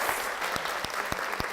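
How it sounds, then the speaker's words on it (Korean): A church congregation claps in thanks to God, a dense, lively burst of many hands with a few sharper individual claps standing out, fairly loud and close, with no talking. "역사하신 하나님께 감사의 박수"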